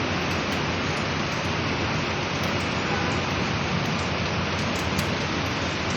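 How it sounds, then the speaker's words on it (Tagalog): Steady, dense rain from an approaching super typhoon in the Philippines pours down, a continuous broadband hiss with no breaks, fairly close and even in loudness throughout. "Pero ngayon umuulan na siya"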